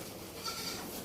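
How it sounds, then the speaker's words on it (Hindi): Goats bleat in the evening during cold weather, faint wavering calls over a quiet, noisy outdoor background, with no speech. "देखिए सारी की सारी बकरियाँ, शाम का वक्त है"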